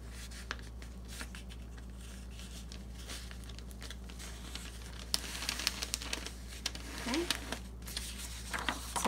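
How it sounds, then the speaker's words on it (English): Someone folds a sheet of notepaper at close range, creasing it and producing soft rustles and crinkles that grow sharper and louder toward the end, with occasional quiet speech in the background. "I'm going to go ahead and fold it."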